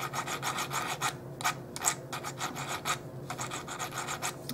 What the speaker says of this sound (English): now I'm going to take an emery board and just do some sanding